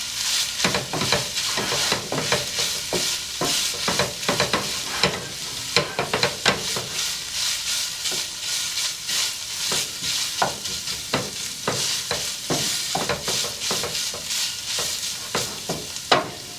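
Ground beef browning in a hot pan for an enchilada casserole, a steady sizzle and frying crackle with repeated scraping and stirring strokes of a utensil throughout, close and alone.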